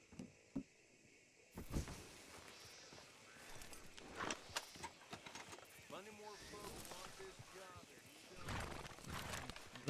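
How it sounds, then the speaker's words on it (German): A horse whinnies and hooves clip-clop amid sound effects from the video game Red Dead Redemption 2, with people talking intermittently over the noise. "Wo kann ich denn mein Pferd anbinden?"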